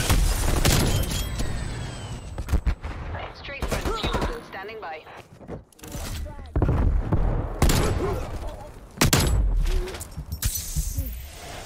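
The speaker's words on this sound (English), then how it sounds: "Hand cannon going off." Hand cannon fire in Call of Duty: Black Ops Cold War on the Nuketown map, with repeated loud shots and bursts mixed with game effects and talk.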